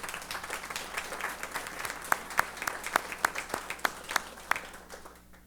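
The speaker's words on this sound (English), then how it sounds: "Please give District 7 a round of applause." A meeting audience applauds an award-winning road maintenance district at a state transportation commission session, a steady, moderately distant patter of many hands with a few sharp nearby claps standing out, no talking.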